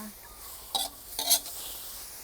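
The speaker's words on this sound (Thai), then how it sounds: "พอน้ำเดือดแล้วก็ใส่เครื่องลงไปนะคะ" Two brief clattering splashes as lemongrass, kaffir lime leaves, chili, shallots and beef are dropped into a pot of boiling water, separated by a short pause, against quiet kitchen background.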